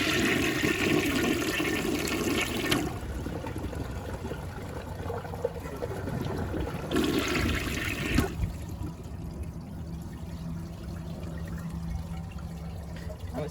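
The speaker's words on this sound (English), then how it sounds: "I want to see if it can flush that" A Rheem Claymore toilet flushes with a rushing swirl of water that drains away into trickling and tank refilling, close and continuous without talking.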